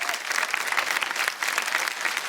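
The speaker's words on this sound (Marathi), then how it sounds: "जोरदार टाळ्या होऊन जाऊ दे" A studio audience at a televised women's game show bursts into hearty applause, a dense, steady clatter of many hands clapping for a few seconds with no talk over it.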